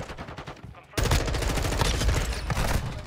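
M4 rifle fire in Modern Warfare 2, with rapid automatic bursts starting suddenly after a quieter moment and continuing loud and dense, mixed with other game sounds.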